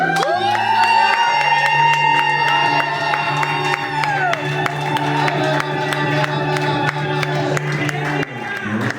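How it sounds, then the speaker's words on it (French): A church congregation shouts and cheers loudly and continuously during a worship service, with whoops and cries over sustained music that fades near the end. "Est-ce que nous pouvons pousser des cris?"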